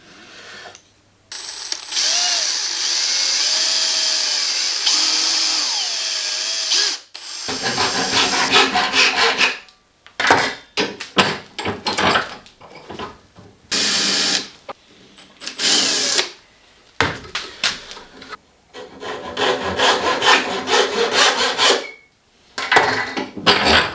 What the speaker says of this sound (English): I'm gonna cut it off here first, and then I am going to elongate the drill hole